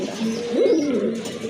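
A pair of large pigeons coo nearby in a single soft, rolling call, heard alone without speech.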